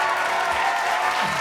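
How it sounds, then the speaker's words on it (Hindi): A comedy show audience applauds a stand-up comedian, a brief, dense wash of clapping from the crowd at a steady level. "एक बार जोरदार मेरे सम्मान में तालियां बजाएं।"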